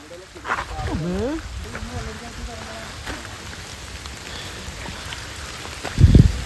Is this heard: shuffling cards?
no